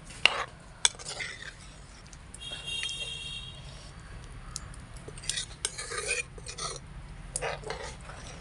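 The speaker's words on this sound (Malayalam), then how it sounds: "അങ്ങനെ നമ്മൾ തേങ്ങാപ്പാൽ ഒഴിച്ചിട്ട് വേണ്ട കറി ഇളക്കിയിരിക്കുകയാണ്" Chicken curry with coconut milk gets stirred in a pot, a faint, quiet scraping with a few sharp spoon clinks against the rim and a soft simmer underneath, close and without voices.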